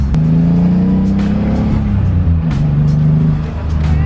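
A turbocharged BMW E36 M3 engine roars loudly and steadily, its deep revving tone rising and dipping slightly, with a few short voices in the cabin.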